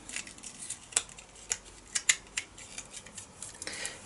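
A craft blade slicing a thin balsa wood sheet into planks for a model bunker: repeated crisp cutting snaps and scrapes in an irregular rhythm, close and fairly loud, with no voices.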